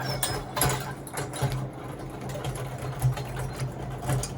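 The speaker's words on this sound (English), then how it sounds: "We're gonna throw the honey out, spin it out." Hand-cranked three-frame chamber honey extractor spinning uncapped frames, a steady mechanical whir with rhythmic ticking and gear clicks, close and continuous, with no talking.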